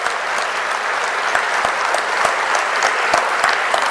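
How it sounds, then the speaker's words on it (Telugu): An audience at the World Telugu Federation conference in Hyderabad claps loudly, with dense, sustained applause and sharp individual claps standing out; no one speaks. "వారిని అందరూ కూడా గట్టిగా చప్పట్లు కొట్టి మనస్ఫూర్తిగా అభినందిస్తే"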